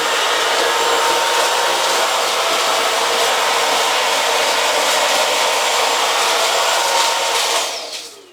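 A Bosch Unlimited 7 ProHygienic Aqua cordless vacuum sucks up crisps and Weetabix crumbs, giving a loud, constant airy whine with scattered crackling that runs steadily and then winds down at the end.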